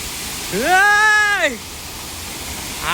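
A waterfall pours at the Salangor temple park in Malaysia with a steady, close broadband rush. A voice briefly exclaims over it near the start.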